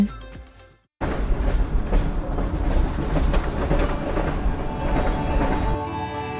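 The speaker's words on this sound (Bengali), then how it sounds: "সাঁতরাগাছি শিয়ালদা রূপসী বাংলা এক্সপ্রেস ধরে" Rupasi Bangla Express on the Santragachi–Sealdah run, rolling on rails: after a brief quieter second, a loud, close, continuous rumble with steady clickety-clack of wheels over rail joints.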